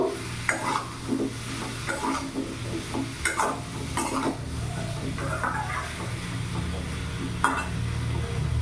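Ginger paste is stirred in a frying pan for a pumpkin dish seasoned with five-spice, with repeated utensil scrapes over a low, steady sizzle, near and moderately loud, no one speaking.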